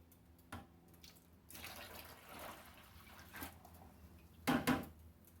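Liquid from silver refining pours into glassware in a soft splashing trickle that swells for a couple of seconds, then a few faint clinks and drips close by in a quiet room.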